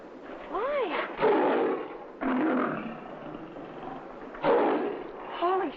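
A caged lion roars in several loud, rough bursts that rise and fall, separated by short pauses, close and dominant.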